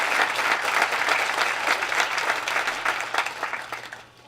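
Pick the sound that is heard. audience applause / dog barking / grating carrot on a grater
audience applause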